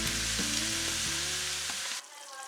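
Ground meat for lasagne frying in a pan, a loud close steady sizzle with faint clinks of stirring, the sizzle dropping off sharply near the end.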